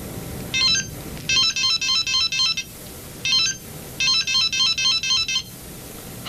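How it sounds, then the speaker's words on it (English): A telephone rings with bright electronic trilling bursts, two rounds of repeated rings separated by short pauses, clear and close with no voices. "In a few moments, the telephone will ring."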